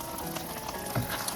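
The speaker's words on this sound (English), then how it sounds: "And here you see it is boiling" Raisin halwa mixture bubbling in a pan, a dense, steady sizzling hiss with small pops throughout.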